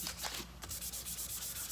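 Rhythmic back-and-forth hand sanding on a guitar body, close and steady rasping strokes repeating quickly with no talking.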